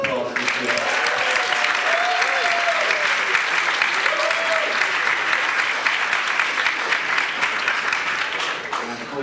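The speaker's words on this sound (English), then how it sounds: "Please give a round of applause for Drew." Audience applause at an in-person book launch for Drew Hart, a dense, sustained round of clapping from a room of people. Faint voices and cheers rise briefly over it before it tapers off near the end.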